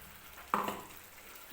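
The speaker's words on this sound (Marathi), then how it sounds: "आणखीन थोडंसं पाणी टाकते मी" Water splashes into a simmering masala in a wok, a single brief hiss and burst of sizzling that quickly fades to a faint background simmer.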